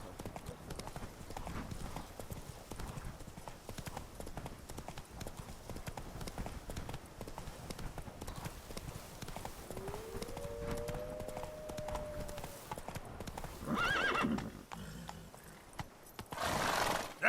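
Roach, a horse in The Witcher 3: Wild Hunt, gallops with a steady clip-clop of hoofbeats under faint background sound, then lets out two loud neighs near the end.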